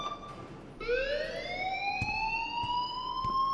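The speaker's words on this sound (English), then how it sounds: "please turn off that alarm since that's your job." An alarm in the video game Life Is Strange sounds loudly and continuously: a steady electronic tone that starts abruptly and rises slightly in pitch, with no talking over it.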